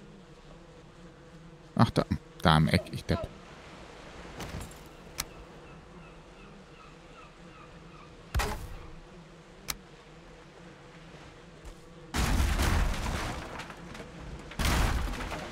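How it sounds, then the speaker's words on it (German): Bees buzz steadily in the video game Valheim, a low continuous drone under scattered thuds, clanks and impacts, while someone speaks German. "die Bienen haben mich gestochen"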